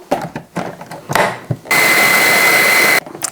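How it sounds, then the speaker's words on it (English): A kitchen blender grinds raw millet into flour: a few short pulsed bursts, then a loud, steady high-pitched whirring run that stops abruptly, followed by another brief pulse. "Adding the raw millet to our blender and then just see what happens."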